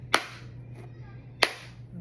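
Slow, sparse applause for Kamala Harris, just two single sharp claps about a second apart in a quiet room, crisp and fairly close with nothing following.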